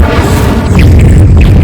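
Casting the Incendio fire spell in Hogwarts Legacy, a loud, continuous roaring rumble with crackling bursts, close and full throughout a short span.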